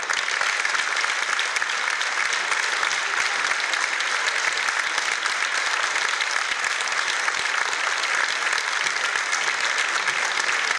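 An audience at a theatre gala applauds steadily and loudly, a dense, even wash of clapping that holds for the whole stretch without pause or voices.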